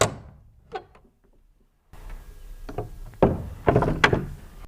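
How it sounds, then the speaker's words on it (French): A glass door is opened at close range: a faint initial click, a short pause, then a series of louder clunks, rattles and scraping thuds. "Elle n'eut aucun mal par la suite à ouvrir la porte."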